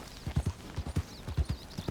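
Hooves of a horse clip-clop in a steady walking rhythm in the video game Red Dead Redemption 2, with clear repeated thuds of moderate loudness and no talking.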